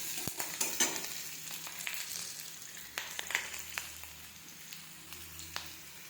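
Chopped capsicum sizzles in a hot pan while being stirred for Maggi noodles, with a soft continuous crackle and scattered sharp spatters and scrapes, fairly quiet and close, with no voices.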